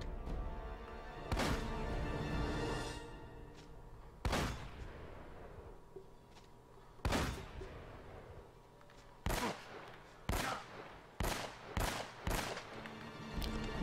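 Sharp, echoing gunshots from the video game Uncharted: Drake's Fortune, widely spaced at first, then coming in quicker bursts of single shots near the end.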